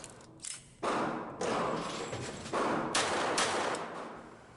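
A Kimber 1911 pistol with a .22LR rimfire conversion kit firing Federal range pack ammo at 10 yards, with several sharp, close shots in an uneven sequence and each crack trailing into a lingering ring.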